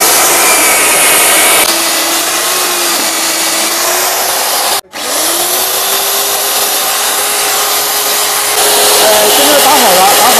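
A water-cooled core drill bores a hole through a wall for an air conditioner. A loud, steady grinding roar holds throughout, cutting out for an instant near the middle before resuming.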